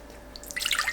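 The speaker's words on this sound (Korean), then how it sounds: "씻은 파레는 최대한 물기 꽉 짜서 준비합니다" Water is wrung from washed green laver seaweed, producing a brief, close trickle and patter of drips that grows louder toward the end of the short moment.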